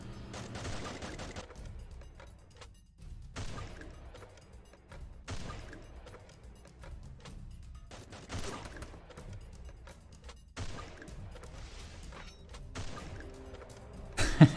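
Gunfire in a live-action parody of the Free Fire game, with repeated sharp bursts and volleys of shots separated by brief lulls, loud and close, with no speech.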